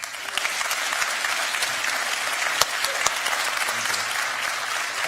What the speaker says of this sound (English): huge round of applause for the presidents of Georgia and Ukraine